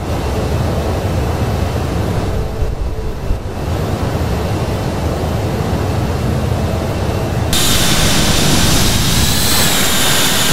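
Simulated Douglas DC-8 jet engines roar steadily during a takeoff from SXM in a flight simulator, a loud broadband rush that swells into a brighter, harsher whine partway through.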